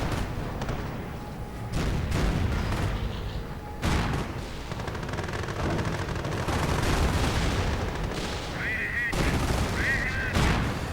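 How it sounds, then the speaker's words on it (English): Panther tanks fire in a Company of Heroes battle, heavy gunshots and booms landing repeatedly in an ongoing fusillade while a commentator talks over the action. "Rather the targets of a severe deluge of Panther fire."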